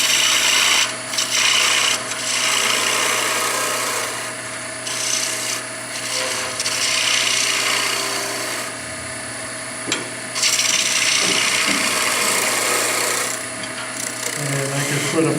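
A skew chisel takes a planing cut on spinning wood in a lathe, producing a continuous scraping, rasping hiss that swells and eases in repeated passes, close and fairly loud over the lathe's steady hum.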